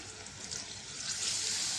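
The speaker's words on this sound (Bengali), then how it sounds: "একটু পানি দিয়ে দিলাম" Water splashes and trickles into a pan holding ground onion and garlic paste for a fish curry, a steady close pouring hiss that swells slightly toward the end, with no talking.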